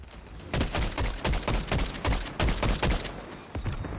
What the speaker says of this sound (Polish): Znowu do mnie strzelają.